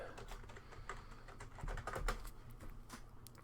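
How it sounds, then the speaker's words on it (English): A password typed on a computer keyboard, a quick, irregular run of soft key clicks close by, with a few firmer taps in between. "am I typing my password correctly?"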